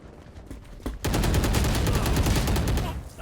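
Rapid automatic gunfire in a first-person shooter video game, a brief soft shot or two followed by a loud sustained burst of fire lasting about two seconds.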